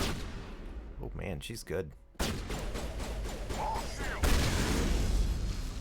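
Shotgun blasts from gameplay in Mass Effect Legendary Edition, sharp gunfire bursts mixed with game effects and combat noise, with a person talking over the action.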